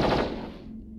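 Machine gun fire in the mech combat game MechWarrior Online, a short loud rattling burst that quickly fades into a decaying tail, with no voices.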